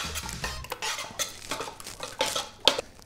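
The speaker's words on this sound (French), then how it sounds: "je vais bien remuer pour casser un peu le côté gélatineux" Thick, gelatinous homemade laundry detergent being stirred in a container, a spoon or utensil scraping and knocking against the sides in irregular bursts, close and moderately loud with no talk.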